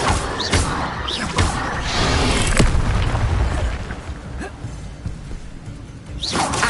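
The Expelliarmus disarming spell cast in a Harry Potter video game: a series of loud booming thuds and crackling bursts over a dense, noisy combat background, with sharp hits scattered throughout.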